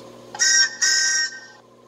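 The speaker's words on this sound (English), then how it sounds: "Hey, I know that whistle." A toy tank engine train gives a high, piercing whistle in two loud blasts followed by a fainter tail, heard over a low steady hum with no talking.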